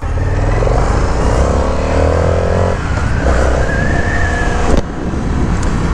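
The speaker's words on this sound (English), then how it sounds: "for what I'm doing right now around the town, this bike is super, super fun." A 2023 Indian FTR Carbon motorcycle rides through town, its engine a steady close drone with rising and falling revs and a brief bump of wind or road noise near the end.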